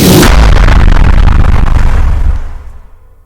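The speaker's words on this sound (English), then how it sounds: "the air freshener and the sliding glass door flyby mixed with the explosion sound" A loud designed explosion built from an air freshener spray layered with a sliding glass door whoosh, opening with a sharp blast and a dense roar that rumbles on, then fades away over about a second.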